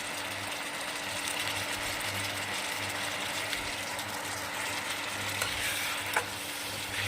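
Spices sizzling steadily in a pan with a splash of water while making a fish curry with cauliflower and potato, a close, continuous frying hiss with a low hum beneath and a faint clink near the end.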